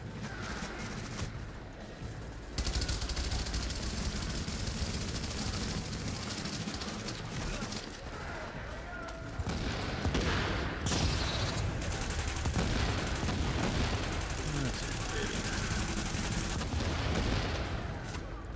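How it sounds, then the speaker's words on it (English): Gunfire and explosions in the video game The Division, with dense bursts of rapid shooting and booming blasts rolling on continuously at a loud, busy level, a voice occasionally audible underneath. "There's a lot of explosions going on around here."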